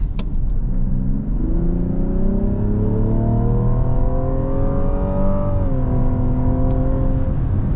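A 2025 Mazda CX-80 G40e six-cylinder engine revs up hard at full power nearby, its pitch climbing steadily as it accelerates, briefly dipping at a gear change before pulling strongly again.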